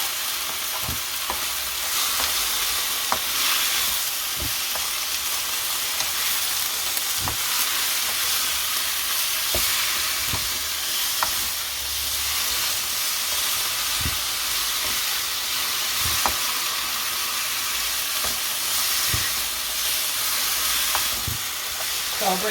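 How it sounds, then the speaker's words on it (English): Mince meat frying and being broken up in a pan, a continuous hissing sizzle punctuated by regular clicking scrapes of a utensil, close and loud with no talk. "What we want to do is to break this up as it's cooking so we don't end up with big chunks of"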